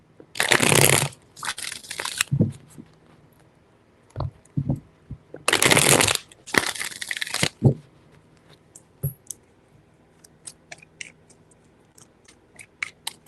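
Tarot cards being shuffled by hand in two bursts of riffling flutter, with scattered soft taps and card clicks between, close and fairly loud, no talking.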